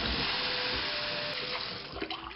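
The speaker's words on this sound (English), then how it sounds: "So the first thing I do is I just like to rinse them with pretty hot water" Pretty hot tap water pours steadily onto a silent spinner wheel being rinsed, a loud, close, continuous hiss and splash that eases slightly toward the end, with no voices.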